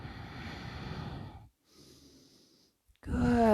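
A person breathes during a yoga stretch: a long audible exhale, a pause, then a softer breath, ending with a brief voiced sound, all close to the microphone.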